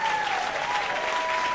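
Audience applause at City Winery during a benefit show, a short steady wash of many clapping hands with a faint sustained tone running underneath.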